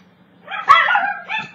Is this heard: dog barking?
yes